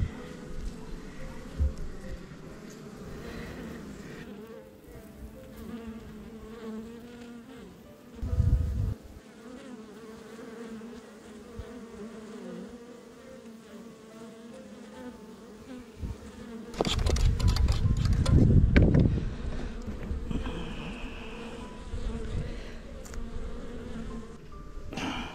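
Honeybees drone continuously around a hive frame with the queen on it, a dense close buzz throughout, swelling into louder bursts as bees fly past near the microphone.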